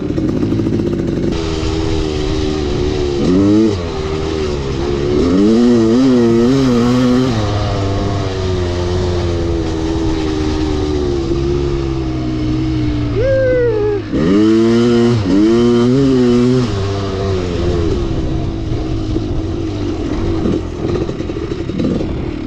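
A Kawasaki KX500 two-stroke dirt bike engine bogs and burbles as it loads up descending a mountainside, then revs rise and clean up in several sharp throttle blips, loud and close throughout.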